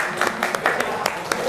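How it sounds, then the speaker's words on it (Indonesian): Scattered applause from a classroom of students for the best group, group 4, with a few distinct claps standing out over a soft room murmur. "Beri tepuk tangan buat kelompok 4."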